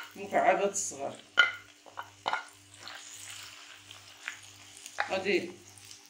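Diced green onions go into hot vegetable and olive oil in a pan, giving a soft sizzle with light stirring and utensil clinks beneath someone talking.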